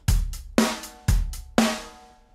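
A programmed drum track plays back in Cubase software, with four evenly spaced heavy kick-and-snare hits, each decaying quickly, plus lighter hits between them in a steady mid-tempo rhythm. It sounds close and clean, with no talking.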